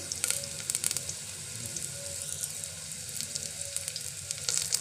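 Oil sizzles steadily in a pan while chole is fried, a continuous close crackle with brief spiky pops and faint stirring, no voices.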